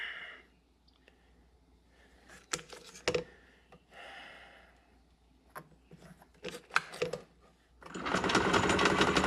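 After scattered small clicks and handling noises, a bench lathe used to make lawn mower parts switches on near the end and runs with a loud, steady whirring roar.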